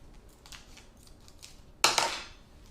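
A single crisp scissor snip cutting the end off something, sharp and close after a stretch of faint rustling.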